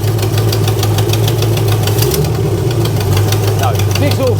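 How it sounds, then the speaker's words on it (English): Ultima supercar engine idling roughly with a blowing exhaust and knocking, a steady loud low rumble with rhythmic puffing throughout, and people talking faintly alongside. "No, the exhaust is blowing."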